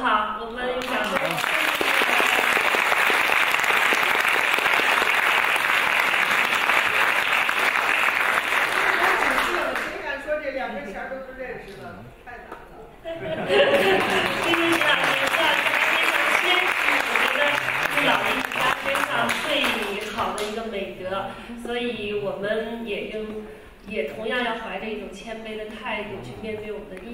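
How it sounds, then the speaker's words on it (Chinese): An audience at an erhu lecture claps in a long, dense burst that fades out and then rises again into a second round, with talking over the gap and as the clapping tapers off. "我们有掌声。"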